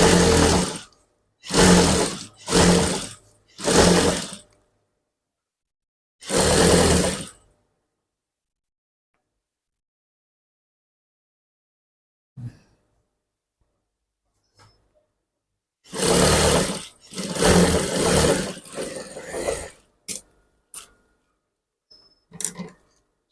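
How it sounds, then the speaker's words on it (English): Sewing machine top-stitching down a trouser waistband being taken in to a smaller size, running in several short loud bursts with pauses between, then a longer run of stitching near the end, with no talk. "So I'm going to top stitch it down from here."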